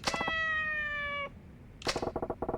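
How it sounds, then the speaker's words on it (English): A kitten in Yakuza 4 gives a long, clear, high meow, then after a short pause a quick series of shorter chirping meows, all close and distinct. "Meow like a kitten."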